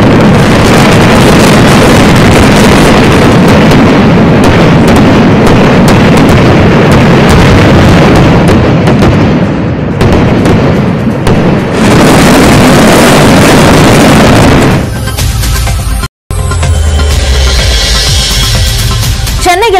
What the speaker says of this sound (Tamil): இரவை பகலாக்கிய பிரம்மாண்ட வான வேடிக்கை நிகழ்ச்சி